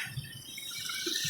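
Irrigation water runs steadily with a soft continuous rush and faint gurgles, heard close and at low level without talking.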